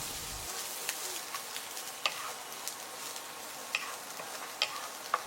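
Steady soft sizzle of 50g of dried shrimp frying with corn and butter in a pan, with light, scattered clicks and taps from stirring throughout; close and fairly quiet, no talking.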